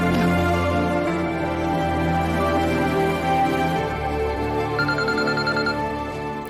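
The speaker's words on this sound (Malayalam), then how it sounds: "മീനാക്ഷിയുടെ ഫോൺ അകത്തിരുന്ന് റിങ് ചെയ്യുന്നു." Inside a house, a mobile phone plays a melodic ringtone that repeats steadily and fairly loudly all the way through, with no voices over it.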